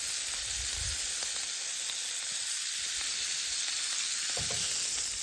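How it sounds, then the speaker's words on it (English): Butter melts around a ribeye steak in a hot pan with garlic and herb sprigs, giving a steady, close, bright sizzle and crackle with a few soft stirring or pressing thuds underneath. "I'm gonna go ahead and mash this garlic up a little bit as this butter's melting"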